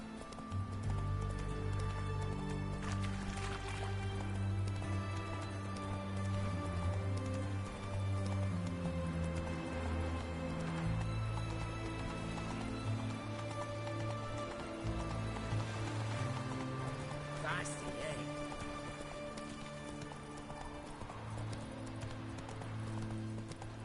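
Roach, the horse in the Witcher 3 video game, gallops on, its hooves clip-clopping in a steady driving rhythm over the whole stretch, set against dense game music and ambience.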